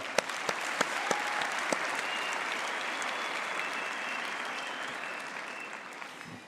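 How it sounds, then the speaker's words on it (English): Broad, dense applause from a university graduation ceremony audience, with a few sharp individual claps at the start swelling into a steady wash that slowly fades. "I think we can give her a hand of applause"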